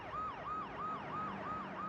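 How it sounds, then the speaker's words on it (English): A wailing siren in a bustling city scene of the video game Agent 64 repeats in quick, even up-and-down sweeps. It is faint and distant over a light background hum, with no talking. "You can hear police sirens going off."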